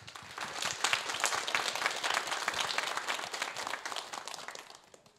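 At a Korean lecture event, the audience gives a welcoming round of applause for retired general Moon Seong-muk. Dense, steady clapping carries on for several seconds and tapers off at the end.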